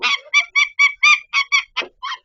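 A bird held in the hand during bird banding gives a rapid series of about nine loud, nasal honking calls, close and evenly spaced, with no talk over them.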